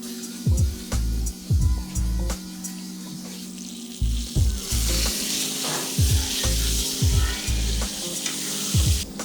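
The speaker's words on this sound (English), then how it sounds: "I'm gonna cook some mushrooms in there." Mushrooms sizzle and fry loudly in a pan, a constant hiss broken by repeated scraping stirs and thumps of a utensil against the pan.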